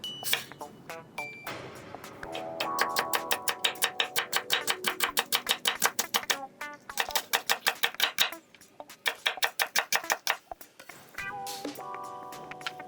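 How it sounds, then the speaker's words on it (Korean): A knife thinly julienning cucumber on a cutting board makes rapid, regular close-up taps in long bursts with brief pauses between runs. "오이를 얇게 썰어 채 썰어줍니다."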